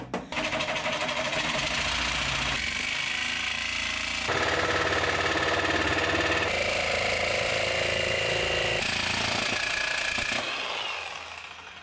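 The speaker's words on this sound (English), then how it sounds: "I'm going to get this steel plate cut to size" A power tool cuts a 1/16 inch steel plate to size for a rowboat-to-bass-boat conversion, loud and close with a harsh, rattling grind that shifts pitch in several abrupt stages before winding down at the end.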